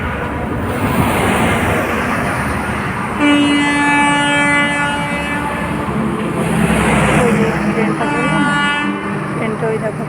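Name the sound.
coal-loaded freight train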